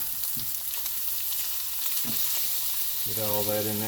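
Butter and crushed garlic sizzling in a hot cast iron pan on a stovetop, a steady loud hiss throughout with a brief spoken line over it and a rising whine near the end.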